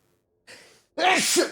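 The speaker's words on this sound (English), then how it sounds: "I think I have to sneeze." A single person sneezes close by, with a short breathy intake, a pause, then a loud explosive burst that trails off with a wavering vocal tail.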